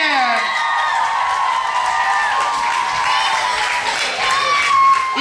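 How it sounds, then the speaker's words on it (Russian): Audience at a children's camp contest show cheering, whooping and clapping for a squad, a continuous loud crowd roar with shouted voices layered throughout. "Аплодируем!"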